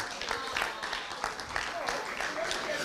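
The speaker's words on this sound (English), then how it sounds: "Big round of applause, ladies and gentlemen." Conference audience clapping at a pan-African meeting on illicit financial flows and taxation, a short burst of moderate applause mixed with crowd murmur.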